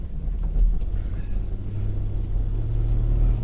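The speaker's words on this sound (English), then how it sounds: "these V6 Estimas are really nice to drive." A 2000 Toyota Estima G-Spec V6 AWD minivan drives along with a steady, low engine and road rumble heard from inside the cabin. The drone stays even and continuous, with no talk over it.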